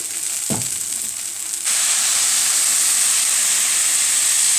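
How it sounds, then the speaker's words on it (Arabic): Loud, steady sizzling of freekeh grain in a hot pan, with a brief clatter near the start before the frying hiss jumps up and holds constant. "سمع صوت الطشطشه كده، انزلي على طول بالميه بتاعتك"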